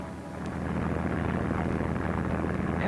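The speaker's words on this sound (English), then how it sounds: "the sound of aeroplane engines filled the air" Aircraft engines in World War II archive film, a steady broadband roar that rises in the first half second and then holds loud and constant, with no speech.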